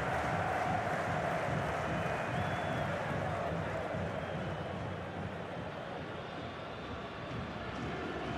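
A stadium crowd at a Copa Conmebol Sudamericana match applauds and roars after a goal, a dense sustained wash of clapping and cheering that fades slightly toward the end.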